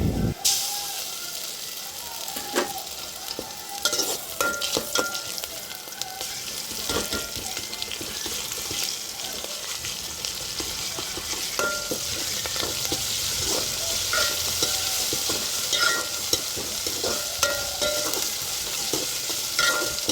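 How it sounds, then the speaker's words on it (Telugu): Tempering frying in a pan as ginger is added and stirred for a potato gravy curry, a continuous close sizzle with repeated spoon scrapes and clacks, a voice occasionally talking underneath. "వేగిపోయినవి అల్లం కూడా వేసి కలుపుకున్నాను."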